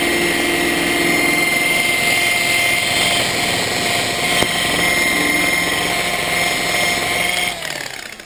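A rotary buffer runs at 1100 RPM polishing metal, a loud, steady, close motor whine with an even droning hum that holds constant before trailing off at the end.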